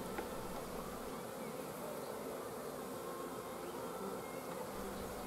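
Dense, steady buzzing of honey bees swarming over an open hive while a frame of bees and brood is inspected, a continuous close hum filling the whole stretch with no talk.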